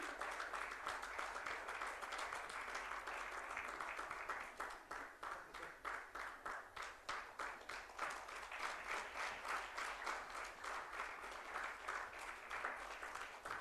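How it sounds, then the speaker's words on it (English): Steady round of applause from the audience at a sports conclave in Lucknow, marking an emerging hero award, continuous and moderately distant with individual claps pulsing through. "Let's give it up a louder round of applause"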